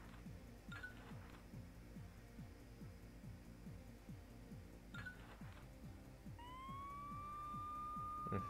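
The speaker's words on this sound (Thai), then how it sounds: "มีเสียงรถตำรวจด้วย" A police car siren in the video game The City: America rises as a clear wailing tone near the end, heard over steady game music with soft clicks.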